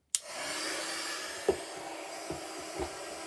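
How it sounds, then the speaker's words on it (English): A steady blowing whoosh of a heat gun running continuously, with a sharp click at the start and a few faint knocks along the way. "I'm going to put the heat gun on now."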